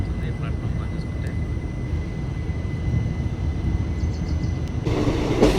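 A South Western Railway express train stands at a platform near Hubli Junction, giving a steady low rumble with a faint tonal hum, and a brief hiss rises at the end.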